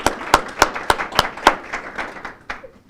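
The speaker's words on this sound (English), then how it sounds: "just a round of applause for our wonderful commissioners" Scattered clapping from an audience at a regional housing and transportation forum, honoring county commissioners: a few loud individual claps in a loose rhythm over a soft crowd patter, fading out after about two and a half seconds.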